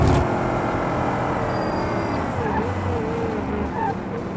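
A car slides under the handbrake in the BeamNG driving game with its rear brakes not yet worn in, a continuous engine roar and a sustained skid running throughout, loud and close with a faint voice beneath.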